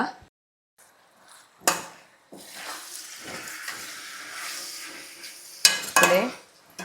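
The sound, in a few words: stirring and mixing biryani ingredients in a pot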